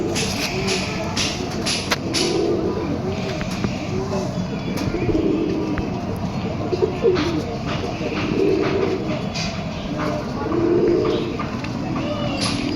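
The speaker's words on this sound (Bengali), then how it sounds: "এটা একটা ডাববালা পায়রা।" A domestic pigeon kept at home coos in soft, low, repeated phrases close by, the calls rising every few seconds over a busy background with faint voices.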